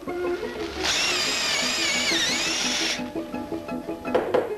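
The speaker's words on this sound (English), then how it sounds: "When drilling a piece of wood, you often find you get splinters on the back." A power drill whirs loudly for about two seconds as it bores into wood, then winds down, with light handling noises before and after.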